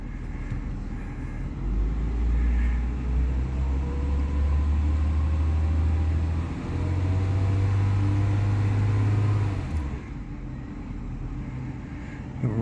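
A Jaguar XJ6 engine idles smoothly, a low steady rumble with slight swells in pitch that holds close for about ten seconds before dropping away.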